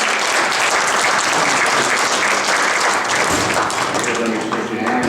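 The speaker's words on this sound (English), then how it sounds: "give Keith a round of applause" Audience at a party breaks into sustained applause, dense and steady clapping from many hands filling the room for several seconds without a break.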